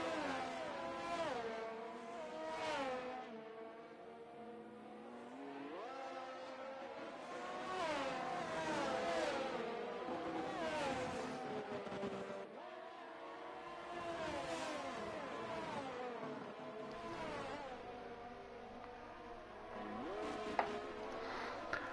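Race cars in a video game race at Bahrain with DRS open, engines revving and shifting in rising and falling sweeps, several cars overlapping and passing, steady and fairly loud throughout with no talk over them.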